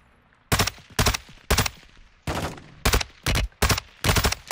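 Gunfire from the video game Warzone 2: several loud, sharp bursts of automatic shots, close and in quick succession, with short gaps between volleys and one longer sustained burst.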